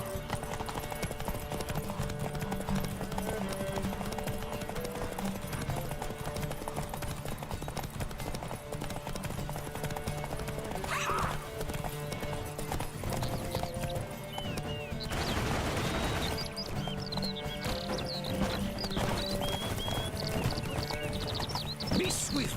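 A horse gallops at full speed in The Witcher 3, its steady clip-clop hoofbeats running continuously under dense game music and ambience, with a brief burst of louder noise partway through.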